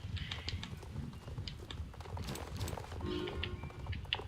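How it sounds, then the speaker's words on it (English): Horse hooves in the video game Star Stable Online, a big chunky horse moving fast with a quick, faint clip-clop rhythm and light clicky taps scattered over the top. "Apparently my big chunky horse here. God, Meteor is fast."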